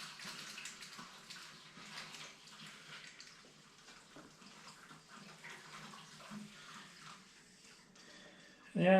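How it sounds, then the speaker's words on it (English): Steady rushing water runs through the hoses of a home-brewing wort cooler, a continuous hiss with no voices, ending in a brief louder knock. "you can see cold water flowing in and warm water flowing out through the wall"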